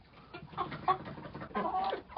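Several roosters cluck in short, uneven bursts close by while waiting to be fed, with a couple of louder squawks standing out; no one speaks.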